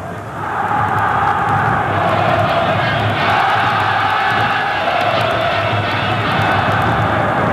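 Vasco da Gama supporters roar in a packed football stadium during a Copa do Brasil final against Flamengo, a loud, sustained wall of crowd noise with chanting swelling from the stands.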